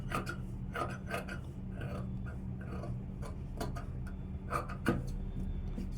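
Scissors cut through blouse fabric in a quiet, close series of crisp snips repeating at a steady rhythm, with no speech.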